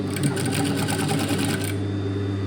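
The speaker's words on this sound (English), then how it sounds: "sew around this curve" Sewing machine stitching around the curve of a fabric mask with bias tape, a steady close whirring hum with rapid needle ticking that stops shortly before the end.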